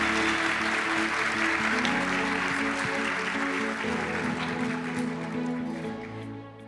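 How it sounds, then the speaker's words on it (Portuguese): Conference audience applauding at the close of a UX talk on biofeedback, a steady, dense wash of clapping throughout that eases slightly near the end, with a low steady hum underneath. "Palmas para a Melina!"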